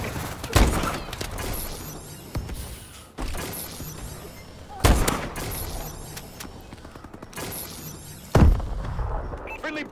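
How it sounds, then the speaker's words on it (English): Bombing-run explosions in the video game Call of Duty: Advanced Warfare: four heavy booming blasts spaced a couple of seconds apart over a constant rumbling battlefield din, with faint radio chatter underneath. "Friendly bombing run clearing the way."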